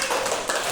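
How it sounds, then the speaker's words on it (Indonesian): A primary-school class claps for classmates after a light experiment, a short, dense burst of hand applause filling the room. "Tepuk tangan buat Herbert dan kawan-kawan."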